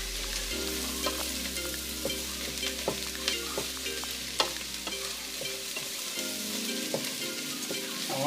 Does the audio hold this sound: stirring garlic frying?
yes